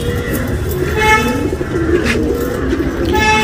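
A female Dhumal tournament pigeon coos in soft, repeated throaty notes, close and fairly steady, over a low background hum with a faint horn-like tone in the mix.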